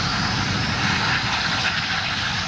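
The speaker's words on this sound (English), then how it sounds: "Sometimes the flares roar with the power of a jet engine." A natural gas flare in the Eagle Ford Shale gives off a loud, steady roar like a jet engine, continuous and broadband, close and unbroken throughout.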